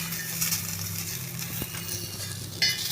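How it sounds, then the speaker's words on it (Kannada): Curry leaves, coriander and garlic frying lightly in hot oil for a North Karnataka spicy green chilli chutney, a steady close sizzle with a stirring clatter partway through and no talking. "ಕರಿಬೇವು, ಆಮೇಲೆ ಕೊತ್ತಂಬರಿ, ಬೆಳ್ಳುಳ್ಳಿ ಲೈಟಾಗಿ ಫ್ರೈ ಮಾಡ್ತಾರೆ"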